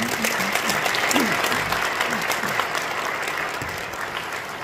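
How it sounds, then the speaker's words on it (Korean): Congregation of about 930 people at a church prayer meeting in Nonsan giving a big round of applause, a full, sustained wash of clapping filling the hall, with some voices mixed in. "큰 박수 한번 부탁드립니다"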